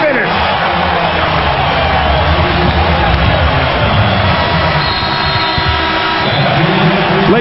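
Loud, continuous crowd roar and cheering filling a basketball arena during a Lakers vs Rockets game as the Lakers complete a comeback, with yells and whoops rising from the dense wash of sound.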